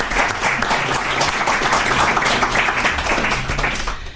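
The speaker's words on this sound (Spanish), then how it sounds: "quiero que para Carmen nazca el primer aplauso" A crowd breaks into applause, many hands clapping together in a full, steady roar that holds at the same level throughout.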